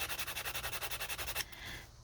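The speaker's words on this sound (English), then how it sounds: "I just used a toothpick, and I've got my little piece of sandpaper around a block" A toothpick is rubbed against sandpaper wrapped around a block in quick, even back-and-forth strokes, about a dozen close, soft scratches in a steady rhythm before stopping.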